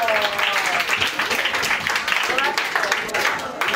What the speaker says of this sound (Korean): 자, 박수 한번 보내주세요.